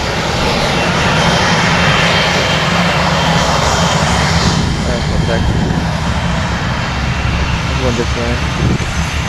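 Small airplane engine drones loud and steady throughout, a constant roaring hum under brief talk from people on board.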